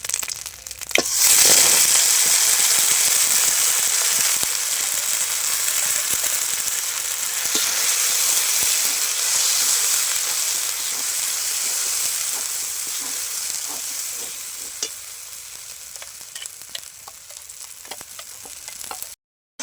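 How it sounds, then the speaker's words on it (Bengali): Green pea paste sizzles loudly in a hot pan while being stirred, a dense continuous frying hiss with scraping strokes, close and steady, tapering slightly toward the end. "এবার আমি কড়াইশুঁটির পেস্টটা দিয়ে দিচ্ছি।"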